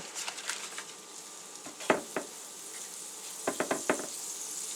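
Korean street-food egg and vegetable patty frying in butter on a griddle, a soft steady sizzle broken by several close clicks and taps, likely from a spatula moving the patty around.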